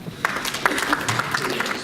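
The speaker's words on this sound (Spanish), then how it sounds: "Recibimos con un fuerte aplauso." A small audience at a law lecture in Arequipa claps sparsely, with light scattered hand claps over a quiet room.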